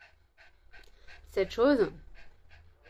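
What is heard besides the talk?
dog panting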